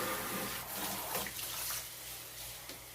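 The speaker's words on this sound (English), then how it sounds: "I'm going to put the water in now" Water pours steadily into a baking pan for a flan water bath, a continuous splashing rush close by with no voices.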